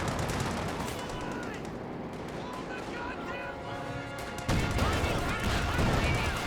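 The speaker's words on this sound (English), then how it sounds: "You're now the Sturmovik strafing run and the P-47 rocket strafe here." A Sturmovik strafing run and P-47 rocket strafe in Company of Heroes 2, heard as dense continuous battle noise with rapid gunfire and explosions that grow louder near the end, under an excited commentator's voice.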